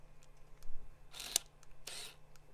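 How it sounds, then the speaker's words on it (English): A Nikon 20mm screw-drive autofocus lens on a D300s body whirs in two short, buzzy bursts of focusing noise, close and fairly quiet against a near-silent room. "They are very noisy though, if you know anything about screw drive lenses"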